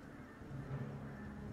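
Geese honk in the video game Ori and the Will of the Wisps, a few low, nasal calls that stand out over a steady game soundtrack.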